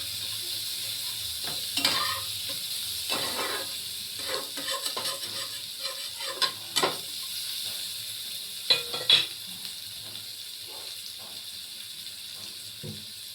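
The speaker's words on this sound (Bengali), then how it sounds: "আমি শুধু পেঁয়াজটাই দিয়ে ভাজা ভাজা করে রান্না করবো" Onion fries in a pan with green chilli and garlic to follow, a steady soft sizzle broken by repeated scraping stirs of a spatula, close and moderately loud, with no voices.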